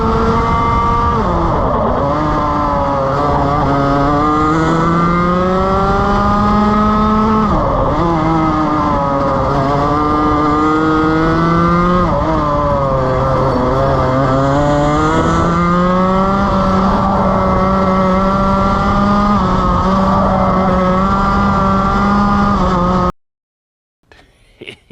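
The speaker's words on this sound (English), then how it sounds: "Let's ride on board in the fastest lap of the weekend." A racing kart engine heard on board during a fastest lap screams loud and close, its pitch climbing and dropping repeatedly through shifts and corners, then cuts off abruptly near the end.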